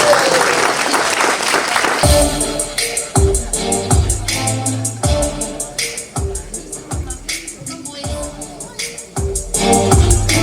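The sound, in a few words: audience applause at an anniversary party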